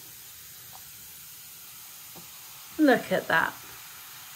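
A lunar moon bath bomb fizzes in bath water with a steady, soft hiss, while a voice speaks briefly over it near the end.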